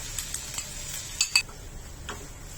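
Ground paneer sautéing in ghee over a low flame for rasmalai modak, a soft steady sizzle broken by a few light spatula taps and scrapes against the pan, with no talking.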